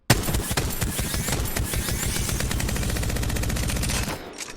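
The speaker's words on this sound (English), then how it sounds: "I am tap firing as fast as I can, and it means the recoil is really small." Gun tap-fired in Apex Legends, a rapid, dense stream of loud, close single shots in quick succession for about four seconds before stopping abruptly.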